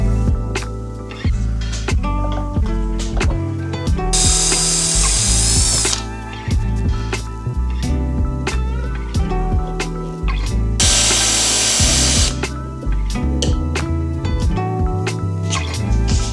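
A power drill bores a hole in timber for a small carbide cutter, its motor whirring in repeated loud bursts and stutters, with two longer high-pitched grinding runs in the middle.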